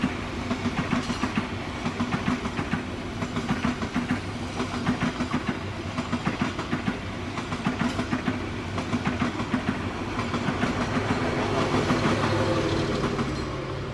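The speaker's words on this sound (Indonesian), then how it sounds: "Kereta api Motis." A KA Motis train, a free motorcycle-carrying service in Indonesia, runs steadily on rails with continuous rumble and repeated clickety-clack from the wheels throughout, heard from onboard.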